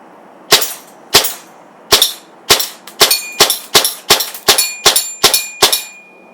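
A Tippmann M4 paintball marker running on a CO2 magazine fires in semi-auto: about fourteen sharp, loud shots, spaced out at first and then coming in a quicker, fairly even string, with no talking.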